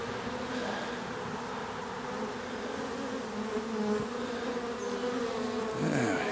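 Honey bees hum and circle in a steady, dense drone at the spot where their hive used to stand, the buzz close and continuous without any talk.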